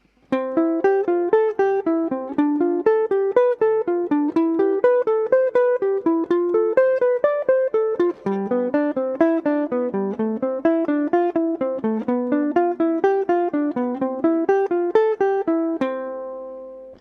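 A clean jazz guitar plays a quick, steady run of plucked triad notes moving up and down in arpeggio-like patterns, ending on a held chord.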